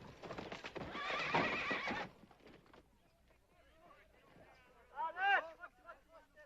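Hooves pound rapidly in a rough gallop, then fade, followed a few seconds later by a loud, shrill horse whinny.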